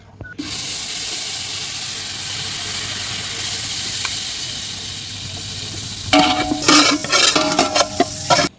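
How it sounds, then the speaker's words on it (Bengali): Butter heating in a metal bowl over a village cooking fire, with an even, hissing sizzle that turns into sharp, rhythmic metal scraping and clattering near the end. "গামলার মধ্যে বাটার দিয়ে সেটাকে ভালোভাবে গরম করে নেব"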